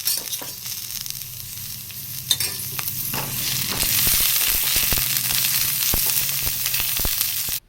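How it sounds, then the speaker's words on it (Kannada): Chillies, coriander seeds, cloves and a piece of cinnamon roast in a little oil for a brinjal dish, giving a steady close sizzle with frequent scraping stirs and small crackling pops. No one speaks. "ಒಂದು ಪೀಸ್ ಚಕ್ಕೆ ಇದಿಷ್ಟು ಸ್ವಲ್ಪ ಎಣ್ಣೆ ಹಾಕಿ ಹುರ್ಕೋತೀನಿ"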